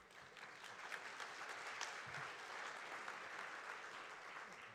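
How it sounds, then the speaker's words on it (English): A conference audience applauds steadily, a dense wash of many hands clapping at moderate distance, holding even for several seconds without a break. "That's the first and last time I'll get an applause for saying my name"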